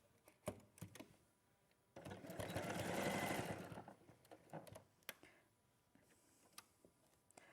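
A domestic sewing machine runs in a short steady burst, sewing seams together, with quiet handling taps and clicks before and after, all at low level.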